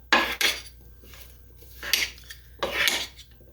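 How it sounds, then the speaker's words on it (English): Utensils scrape and clatter in a bowl as a broccoli and pear salad is tossed with dressing, in several close, irregular bursts with quiet pauses between them. "And then you take it and you just mix it up."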